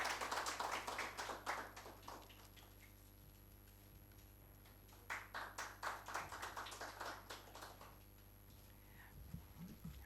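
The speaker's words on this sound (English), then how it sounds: "with a big round of applause" An audience applauding to welcome a speaker at an academic talk on the industry–academia gap: faint, scattered clapping in two bursts with a soft lull between, heard at a distance in a quiet room.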